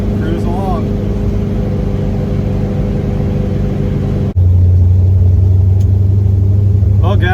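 A car cruising on the road at 65 mph, heard from inside as a loud, steady engine drone and road rumble that shifts to a deeper, heavier hum partway through.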